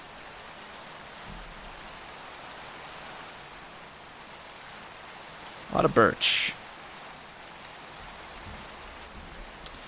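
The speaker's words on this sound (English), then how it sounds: "It's a rainy day in Minecraft." Steady rainfall in the Minecraft video game hisses evenly throughout, with a brief burst of louder noise in the middle and a person talking softly over it.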